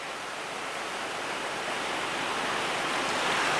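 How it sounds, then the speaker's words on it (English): Klamath River in Siskiyou County, California, running full beneath a bridge: a steady, loud, broadband rush of water that holds constant throughout, with no voices. "River's running pretty full."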